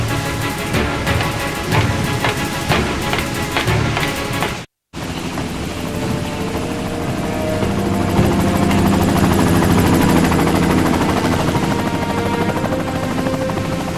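A helicopter from the PlayStation game Covert Ops: Nuclear Dawn gives a continuous, loud rotor drone with rhythmic chopping. It cuts out for a moment, then returns as a steadier, swelling whir.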